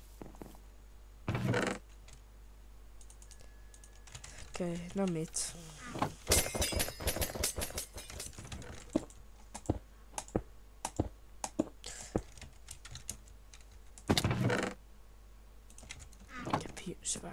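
Rapid computer-keyboard typing during a Minecraft Skywars match: bursts of sharp, close clicks that cluster in a dense flurry midway, with people talking throughout.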